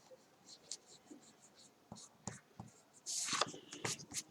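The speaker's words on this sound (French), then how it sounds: "Je vais gommer le surplus ici." An eraser rubbing over paper to remove excess marks during photo embellishment work, heard as short quiet scrubbing strokes in bursts, ending with a louder, longer rubbing stretch near the end.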